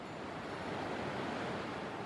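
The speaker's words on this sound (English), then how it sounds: "we hear the sound of gushing waters" Mountain river rushing down from the heights, a steady broadband roar of gushing water that stays loud and close throughout without a break.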